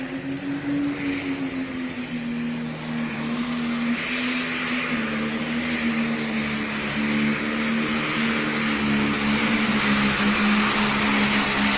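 A loud pulling tractor engine at a pro stock tractor pull drones steadily at high revs, a continuous heavy roar that holds its pitch with slight wavering throughout.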